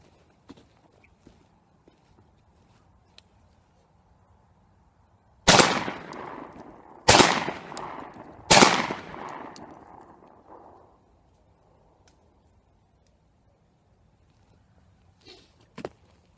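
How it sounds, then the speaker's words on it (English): Franchi Affinity 3 inertia-driven shotgun firing light target loads outdoors, three loud sharp blasts spaced about 1.5 seconds apart, each with a short echoing tail, amid quiet background and a few faint clicks. "so I've shot this gun 6 times. That's using the really light target loads, so it is inertia driven."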